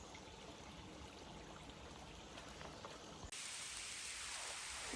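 Rain falls on a forest stretch of the Appalachian Trail between Connecticut and Massachusetts as a thunderstorm moves in, a steady hiss that abruptly turns brighter and louder partway through.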